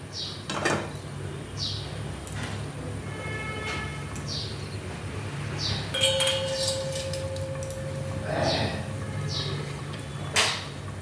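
A metal lid is set over a cooking pot of sweet pumpkin curry in a home kitchen, making a few light metallic clinks and scrapes, scattered and fairly close over a quiet background hum.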